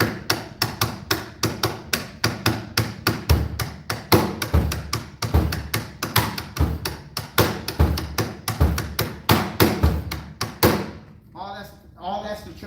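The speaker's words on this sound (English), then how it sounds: "So here's the rhythm that defines the drill genre. It's the Tracy rhythm." A drummer plays the Tracy rhythm of drill music on a kit, a steady run of punchy, thudding hits with sharp taps in a tight repeating groove, loud and close, ending with some speech.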